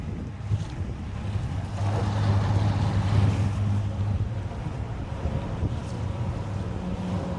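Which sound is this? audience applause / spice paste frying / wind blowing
wind blowing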